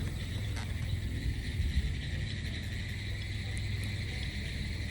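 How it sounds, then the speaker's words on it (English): Cicadas sing in a dense, continuous buzzing chorus in the woods at night, over a low, soft rumble, with no voices. "The woods are coming alive. The cicadas are singing."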